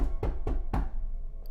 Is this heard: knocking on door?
yes